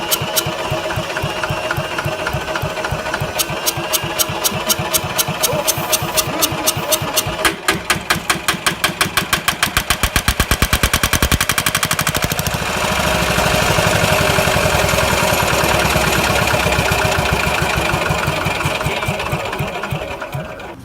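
A Lister LT1 single-cylinder diesel engine runs steadily nearby with a loud, rhythmic thumping knock that speeds up and smooths out partway through, continuing without talk.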